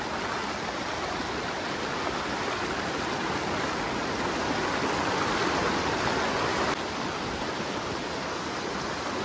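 Floodwater swollen by cyclone rain rushes past a bridge in a dense, steady roar, loud and continuous throughout without a break.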